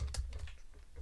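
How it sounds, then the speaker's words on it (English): Fingers tap a computer keyboard in a quick run of close, crisp keystrokes while coding, with no talking over it. "It's good practice to keep on typing like this."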